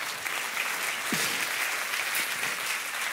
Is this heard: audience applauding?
yes